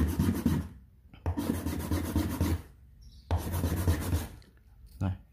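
Fine side of a hand file rasping a small Crush Gear toy part, three bursts of steady back-and-forth scraping separated by short pauses, close and fairly loud.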